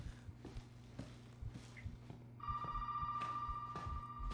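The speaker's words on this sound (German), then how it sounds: "Wo ist denn das dämliche Telefon?" A telephone rings in the horror video game Resident Evil 7, starting midway as a sustained electronic ring over quiet ambience with soft footsteps before and during it, no talking.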